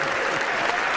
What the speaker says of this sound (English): give yourself a hand